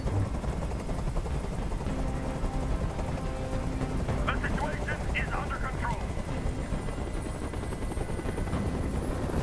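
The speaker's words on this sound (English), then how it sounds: "Tell that helicopter to get out of here!" A helicopter hovers over a hostage standoff in the video game Detroit: Become Human, its rotor wash a constant dense roar beneath shouted dialogue.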